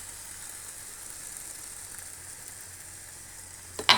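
Broccoli and prawns sizzle steadily in a hot pan, a soft continuous frying hiss with a brief louder burst of crackle near the end.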